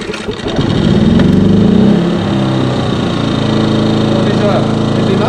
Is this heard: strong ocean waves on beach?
no